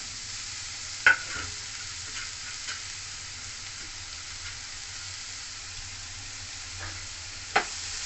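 Grated papaya frying and being stirred in a pan over a gas flame: a faint, steady sizzle with a few soft scrapes and two sharper clinks of the spoon against the pan.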